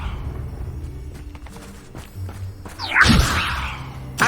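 A Levioso levitation spell from the video game Hogwarts Legacy is cast with a sharp whip-like swish and a bright rising whoosh, preceded by soft footstep thumps and light clatter, then a short final burst.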